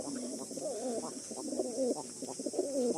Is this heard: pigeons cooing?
yes